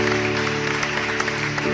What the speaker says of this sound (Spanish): Fuerte el aplauso para Dios